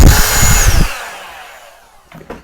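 A small Bulla 21V brushless pruning chainsaw revs loudly for under a second, its buzzing motor then fading away, followed by a brief quieter burst near the end.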